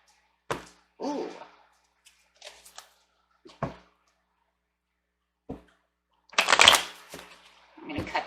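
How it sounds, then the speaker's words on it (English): A deck of cards is shuffled and cut in short separate bursts of riffling and soft slaps, close and quiet, with silence between the handlings and a louder flurry of shuffling near the end. "I'm going to cut the deck, guys, because it's trying to cut itself."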